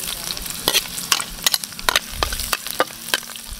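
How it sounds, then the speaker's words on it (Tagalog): Ginger and garlic fry in a hot pan for a Filipino sarsa dish, with a steady close sizzle broken by repeated sharp scraping clicks of a spoon stirring against the metal. "Luya at saka bawang isama na natin sa pag-isa."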